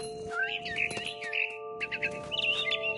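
Chirping of a mama bird in the video game What Remains of Edith Finch, with bright repeated tweets and trills that ride over a steady low drone and soft ambient game background.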